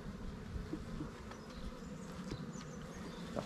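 Honey bees buzz around an opened hive during a spring inspection, a faint, continuous hum with brief individual wingbeat passes drifting in and out.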